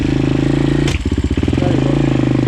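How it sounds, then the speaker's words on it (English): Dirt bike engine idling steadily, then a throttle blip brings a quick burst of pulsing revs before it settles back to a loud, close idle. "So give it a little bit of gas when you give it in first."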